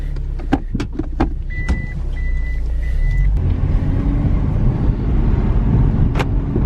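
Toyota JZX100 Chaser running a pod filter, its engine idling up close with a few sharp clicks and chimes before it swells into a loud, steady, rumbling drone as the car pulls away.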